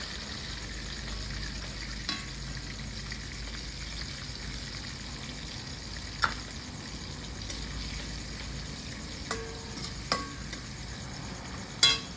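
Garlic and ginger sizzle and fry steadily in a pan during rustic village-style cooking, a soft continuous crackle with a few sharper clinks and stirring knocks scattered through it, fairly faint and with no talking.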